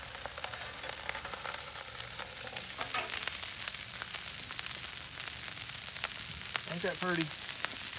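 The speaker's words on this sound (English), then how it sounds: "That rice popping." Rice fries in canola oil on a Blackstone griddle over medium heat, a steady close sizzle with scattered pops and crackles, while someone speaks briefly over the cooking.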